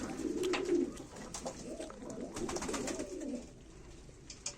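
Pigeons coo at a live pigeon auction in Ankara, a close, soft warbling of throaty coos rising and falling over faint background clatter.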